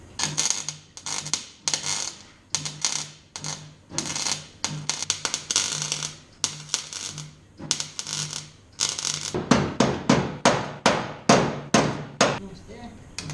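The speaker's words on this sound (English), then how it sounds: "So I'm going to plug weld these sections together." A welder plug-welds steel floor pan sections on a Ford Escort RS Turbo's rear floor in a garage, producing a series of short, sharp crackling bursts with pauses between them that speed up and come closer together near the end.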